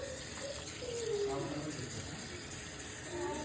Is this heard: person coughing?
no